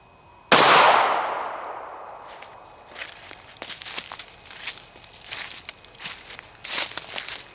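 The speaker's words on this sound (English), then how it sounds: "here we go with that R.I.P round, 380 out of the Sig P238" A single sharp gunshot from a Sig P238 pistol firing a .380 ACP RIP round into ballistic gel, loud and close with a ringing decay, followed by scattered rustling and footstep-like shuffles.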